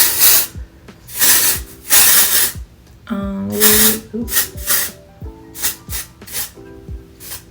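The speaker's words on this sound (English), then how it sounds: "Oh, and I also like to use this texture spray." Several bursts of hissing aerosol hair texture spray, each lasting about a second, separated by pauses with handling clicks and a brief spoken exclamation.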